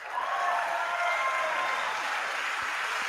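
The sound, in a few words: audience applause during a speech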